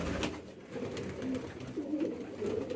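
A Bombay pigeon coos close by in a few short, throaty, rolling calls that rise and fall over a couple of seconds.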